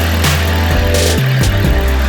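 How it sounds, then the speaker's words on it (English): A Dodge engine idles after its alternator was replaced, a loud, steady, close running hum with a smooth, even drone and no knocking or rattling, alone without voices. "That's a quiet running engine."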